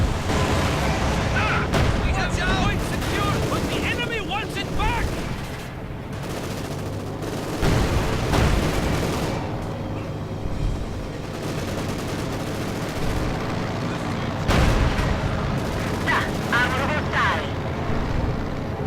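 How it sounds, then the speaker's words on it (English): Combat from the Company of Heroes 2 strategy game as a Sturmovik attack plane strafes a Panzer IV: bursts of gunfire and explosions, rumbling battle noise, with a commentator talking over much of it. "Sturmovik making a run, apparently not having any luck penetrating the arm of the Panzer IV"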